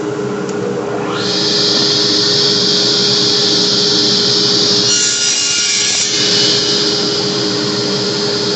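Hand or power sawing through a wooden board for an American flag cross, a loud steady rasping cut that runs continuously for several seconds alongside a constant background hum.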